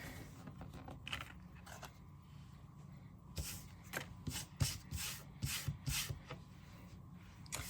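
A scratch-off savings challenge card being scratched with a coin, giving soft, close rubbing and scraping strokes in repeated short bursts that grow louder toward the end, with no talk.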